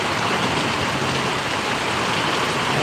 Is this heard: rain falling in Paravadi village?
yes